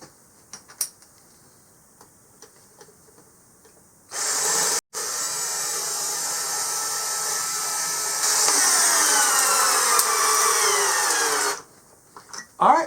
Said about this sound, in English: We're starting off with the 12-volt drill in drill mode